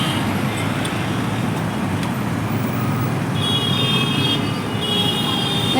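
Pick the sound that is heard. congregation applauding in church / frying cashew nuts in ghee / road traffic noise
road traffic noise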